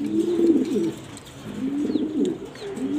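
Grizzle pigeons in a loft coo in soft, low, rolling phrases, two bursts separated by a brief pause, close by and with no talking over them.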